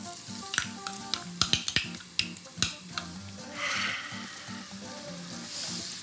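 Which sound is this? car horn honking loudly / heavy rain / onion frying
onion frying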